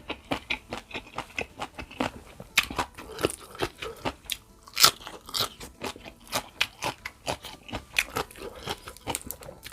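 Someone eating Luang Prabang-style papaya salad with fresh shrimp bites into crisp fresh vegetables, giving loud, close, rhythmic crunches and chewing in quick repeated bursts with no talk.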